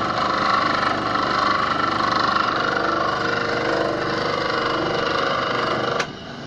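Homemade wood lathe fitted with a shop-built faceplate spinning freely, a steady loud motor hum and whine that runs evenly, then drops abruptly near the end as it is switched off.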